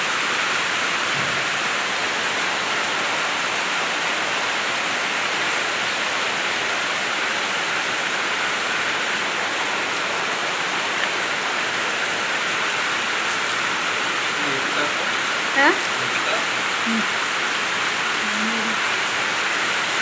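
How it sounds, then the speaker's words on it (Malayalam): Heavy rain pouring down steadily, a dense, even hiss of drops on surfaces that stays loud and constant throughout, with no voices. "നല്ല മഴയാണ്"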